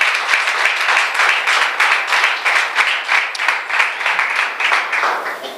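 A church congregation applauds, a dense, sustained burst of many hands clapping together with a slightly pulsing rhythm and almost no talk.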